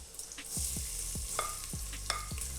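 Onions hiss and sizzle steadily in hot oil, with repeated scraping and stirring knocks from a utensil in the pan, close by.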